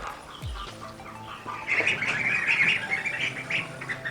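Hatchling ducklings peep and squawk in a lively chorus nearby, bursts of high chirping growing louder partway through, with no talk.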